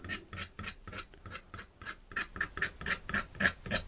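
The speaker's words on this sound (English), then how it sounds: "I'm just going to scrape in a few marks like that." A tool scrapes marks into wet acrylic paint on a winter landscape canvas. Short, rasping strokes repeat in a steady rhythm close by and get a little louder toward the end, with no voices.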